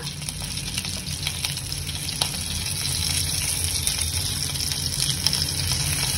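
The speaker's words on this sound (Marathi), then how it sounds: "आता मी फक्त ह्याला फ्राय करून घेणार आहे।" Stuffed bitter gourds (bharli karli) sizzle and fry steadily on a hot tava, a continuous close hiss with faint crackles and no talking.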